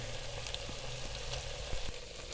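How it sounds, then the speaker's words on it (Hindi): Vegetables for a fajita burger frying in a pan, a steady close sizzle and crackle with faint stirring clicks, no talk. "हल्के हल्के इनको फ्राई कर लेंगे"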